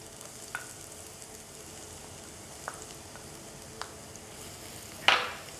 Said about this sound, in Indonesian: tumis dulu bumbunya. Oke, jelas panas ya.